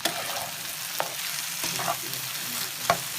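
Chicken shawarma pieces frying with red sauce in a pan, a steady close sizzle punctuated by a few sharp utensil taps and scrapes.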